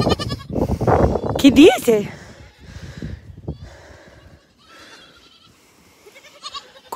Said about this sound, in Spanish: Las cabras están lindas.